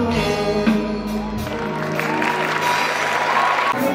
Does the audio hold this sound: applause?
yes